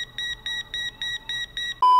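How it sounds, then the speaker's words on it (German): Electronic beeping from the video game Border Officer: a rapid run of about seven even, high-pitched pulses, then a sustained lower tone at the end, clear and alone. "Da piepst aber jemand, was piepst?"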